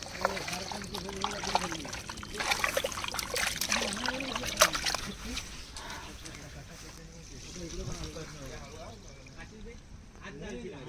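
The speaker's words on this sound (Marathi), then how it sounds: "चिकन आणलंय ते मस्त आता धुवून घेऊया" Water trickles and splashes as chicken is washed outdoors in a forest, a light intermittent pouring sound that runs beneath people talking throughout.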